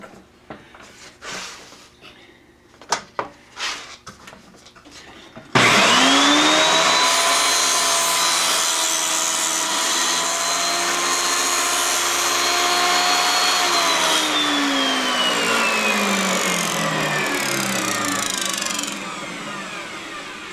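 A power saw is set up and then cuts through a small piece of plywood: scattered knocks and handling noises first, then the motor starts abruptly into a loud, steady close whine that runs on and eases slightly near the end.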